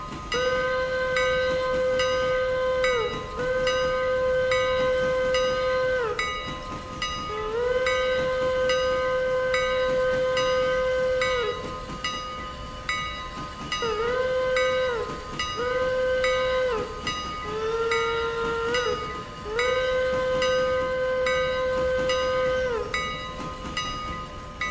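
A steam locomotive in the Railroader game sounds its chime whistle in long and short blasts, again and again, over a continuous low rolling rumble and hiss from the rails.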